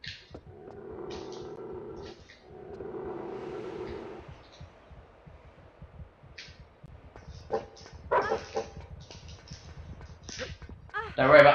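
Dogs bark and yip in Tomb Raider 3's Antarctica level, repeated close barks broken by sharper yelps, with a person talking over parts of it.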